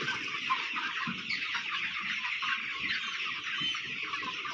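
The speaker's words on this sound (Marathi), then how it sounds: "माझ्याकडे टोटल असे साडेतीन हजार पक्षी आहेत याचे एका शेडमध्ये पहा" A dense chorus of about 3,500 broiler chickens, around 54 days old, clucks and chirps continuously inside a poultry shed, a steady crowded din with no voices.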